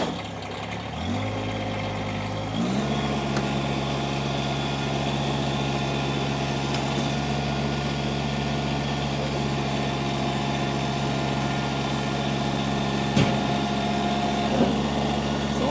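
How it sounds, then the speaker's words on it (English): A 2019 Kubota BX1880 compact tractor's small engine cranks briefly, catches after about two seconds, then settles into a steady, close idle with a persistent mechanical hum and a few faint clicks. "I'm going to fire this tractor up."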